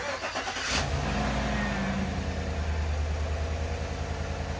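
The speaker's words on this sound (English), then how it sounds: "then start up the engine" A car engine cranks and catches after an oil change, then settles into a steady, close, low idle rumble.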